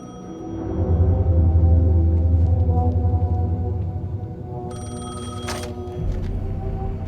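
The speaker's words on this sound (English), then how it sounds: "phone was ringing. Somehow I knew the call was for me." A telephone rings in the Alan Wake II video game, its bell tone sounding in a couple of bursts over a low, steady ambient drone.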